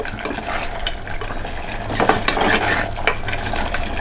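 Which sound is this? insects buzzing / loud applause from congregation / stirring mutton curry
stirring mutton curry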